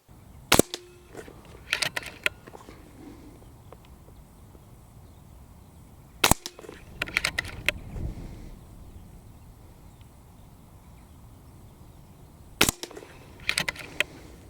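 FX DRS Classic .22 air rifle firing slugs on an indoor range: three sharp, loud shots spaced about six seconds apart, each followed by a brief flurry of clicks and metallic handling sounds.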